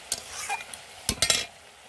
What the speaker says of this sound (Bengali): তারপর নেড়ে চেড়ে নামিয়ে নেব।